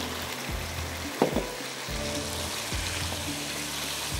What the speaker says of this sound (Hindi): चलिए अब इसके अंदर जा रही है यहाँ पर ये प्याज और हरी मिर्च